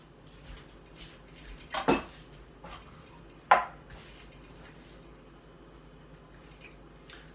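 A knife slices through folded pasta dough into linguine on a board, two distinct sharp cuts plus a few softer taps, close and clear with no talking.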